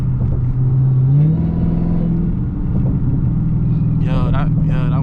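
A Dodge Challenger Hellcat on the move gives off a steady low engine drone with a whining tone over it. A brief burst of other noise comes near the end.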